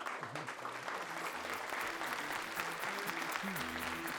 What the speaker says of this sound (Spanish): Así que le pido un aplauso para César.